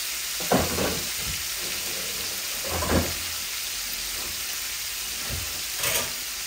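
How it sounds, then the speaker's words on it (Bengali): Tilapia with mustard paste frying in hot oil, a steady close sizzle with a few louder spatters and stirring bursts spaced a couple of seconds apart, no voices. "মাছগুলো আস্তে আস্তে ভাজা হোক।"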